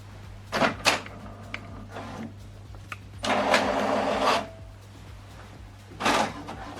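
An HP Deskjet 4100e inkjet printer prints a page, with bursts of whirring paper feed and carriage motion separated by clicks and brief pauses, near and fairly loud over a steady electrical hum.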